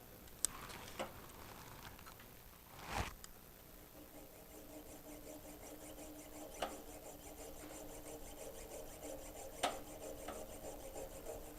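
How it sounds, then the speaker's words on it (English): Fine-toothed jeweler's saw cutting a shallow slot into a metal hinge rod for a woodwind instrument repair, a steady close rasping stroke with a few sharper ticks along the way, no voices. "There's my jeweler saw."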